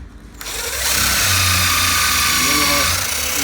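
A power drill drives a screw at an angle into a wine barrel chair, its motor whirring up to a sustained, close, loud spin that runs for several seconds.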